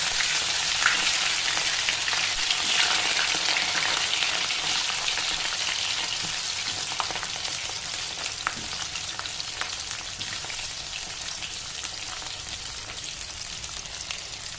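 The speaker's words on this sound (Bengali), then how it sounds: "এবার একটু ভাজবো, তার জন্য কড়া দিয়ে একটু তেল দিয়ে দিলাম, এরপর ফুলকপি ছাড়বো।" Cauliflower pieces fry in very hot oil in a wok, making a loud, dense, crackling sizzle that runs without a break and eases slightly over time, with no one speaking.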